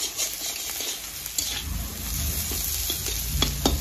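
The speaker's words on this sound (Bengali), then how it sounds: "এই কটা দিয়ে এবারে আলুটাও দিয়ে দেবো, দিয়ে এই দুটোকে ভেজে নেব।" Chopped onion and potatoes frying together in a pan, giving a steady, close sizzle with soft scraping and stirring sounds that grow a little louder toward the end. No one speaks.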